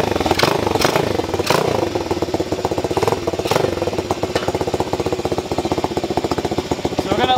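A Tao Tao DBX1 140cc dirt bike idles after a cold start with the choke open, a fast, steady, rattly single-cylinder putter up close, with a few slight surges in level.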